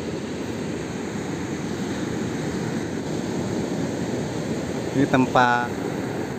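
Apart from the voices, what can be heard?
sea waves at the tip of Java, Alas Purwo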